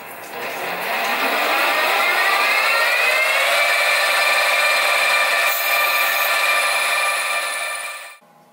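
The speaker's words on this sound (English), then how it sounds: "I'll drill through with 1/8 of an inch and then the" A drill bores a 1/8 inch hole through a metal bracket for a model steam engine's reverse gear, a steady loud whine lasting several seconds before cutting off abruptly.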